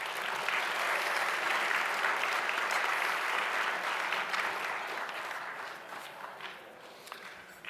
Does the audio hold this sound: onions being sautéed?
no